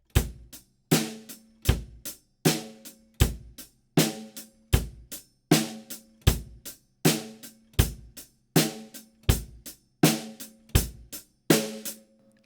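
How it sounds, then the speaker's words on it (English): A simple drum groove played on a kit, with evenly spaced, punchy hits repeating in a steady rhythm for about twelve seconds, close and clear with no talking. "we can move on to the more complex drum groove, but it is still simple, and it sounds a bit like this"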